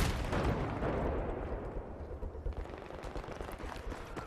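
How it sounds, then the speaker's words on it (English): A grenade detonates in Battlefield 3 team deathmatch on the Talah Market map, a loud broadband blast that rolls into a decaying rumble with scattered distant gunfire crackling afterward, no talk over it. "Grenade."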